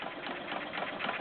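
A Stover CT-2 hit-and-miss engine runs at about 500 RPM with a steady, even chuffing beat, close and moderately loud, and no voices.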